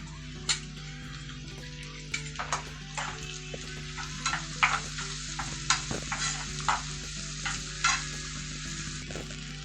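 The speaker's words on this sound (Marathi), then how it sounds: "आता आपण टोमॅटो जो कापून घेतलेला आहे तो टाकू आणि टोमॅटो पण नरम व्हायला द्यायचा आहे" Chopped tomato hits softened onion in hot oil and sizzles steadily, while a spoon scrapes and stirs the pan in irregular clicks and taps close by.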